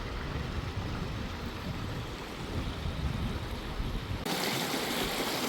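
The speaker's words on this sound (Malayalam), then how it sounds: "ഇതിൽ കൂടി ചെറിയൊരു തോടൊഴുകുന്നുണ്ട്" A small stream flows past a garlic and pea farm in the Kodaikanal hills, giving a continuous, fairly faint rushing of water with some wind-like noise and no talking.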